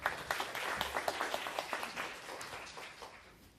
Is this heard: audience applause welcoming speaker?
yes